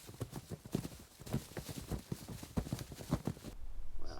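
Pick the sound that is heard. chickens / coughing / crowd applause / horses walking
horses walking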